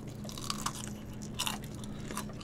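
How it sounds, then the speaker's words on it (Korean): Close, quiet chewing of grilled pork neck wrapped in napa cabbage, with several crisp crunchy bites of the leaf standing out over soft, moist mastication and a low background hum. "이번엔 배추에다가 싸 먹어보겠습니다 여러분"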